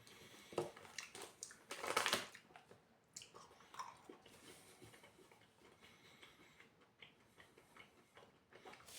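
Milk chocolate with pistachio and kadaif dough being bitten and chewed close up, with crunchy, crackly bursts that are loudest in the first few seconds and then ease into softer, steady chewing.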